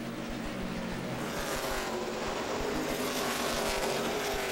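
NASCAR Nationwide Series stock cars racing at the 2009 Virginia 529 College Savings 250: a steady, dense engine roar carried from a distance without break, with no voices over it.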